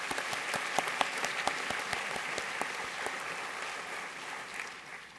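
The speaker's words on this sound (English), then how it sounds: "Let's give all of them a round of applause." An awards-ceremony audience claps for a group of finalists, a moderate, fairly distant patter of many hands with a few sharp individual claps standing out early before it gradually thins and softens.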